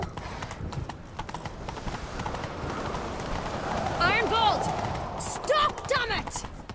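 Hooves clip-clopping at a gallop from a horse in The Witcher 3, a steady rapid rhythm under game music, with brief bird-like chirps and a faint whinny toward the end.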